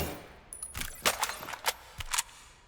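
Several sharp gunshots from a weapon in the video game Vail crack out in quick irregular succession, fairly quiet and clipped, with a faint bit of speech nearby.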